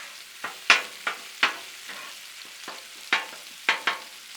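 Breakfast sausage and bacon frying on a Blackstone griddle, a steady close sizzle broken by a series of sharp pops and spatters at irregular intervals.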